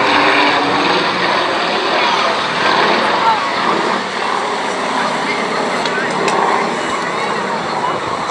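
An aerobatic plane loops overhead at a seaside air show in Cleethorpes, its engine a steady, loud roar with a rushing, broadband drone that holds for the whole stretch, with faint crowd or wind noise underneath.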